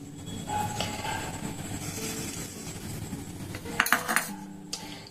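Utensil scraping and stirring parotta batter in a bowl, a continuous clattery mixing sound with a few sharper knocks near the end.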